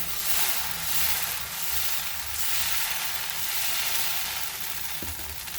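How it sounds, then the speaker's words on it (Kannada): A ghee dosa fries on a hot pan with plenty of ghee, giving a close, steady, continuous sizzle that barely varies in loudness and has no talking over it. "ತುಪ್ಪ ಜಾಸ್ತಿ ಹಾಕಿ ತುಪ್ಪದ ದೋಸೆ ಮಾಡ್ಕೊಳ್ತಾ ಇದ್ದೀನಿ"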